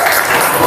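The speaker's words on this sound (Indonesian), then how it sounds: "Tepuk tangan dong buat Raisa." A classroom group applauds a student presenter with a short burst of dense, steady clapping, fairly loud and without talk.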